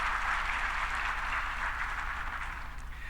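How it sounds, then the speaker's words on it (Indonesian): A crowd at an official address in Sorong, Indonesia claps steadily for a few seconds, the applause fairly even and slowly tapering off toward the end. "Tepuk tangan dulu"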